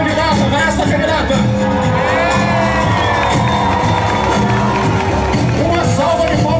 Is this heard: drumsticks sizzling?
no